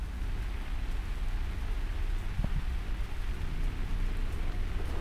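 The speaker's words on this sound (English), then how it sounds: "Raining on the sulfur's planet." Steady rain falls on a sulfur planet in the video game MechWarrior 5, a dense continuous hiss with low rumble underneath and a brief clatter midway, no voices.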